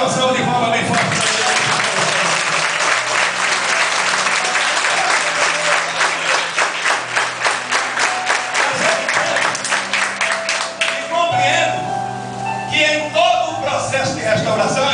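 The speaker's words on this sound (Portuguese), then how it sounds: "Se merece, dê uma salva de palmas bem forte." A church congregation gives a loud, full round of applause during a sermon, dense clapping filling most of the stretch while a voice speaks intermittently over it and the clapping thins toward the end.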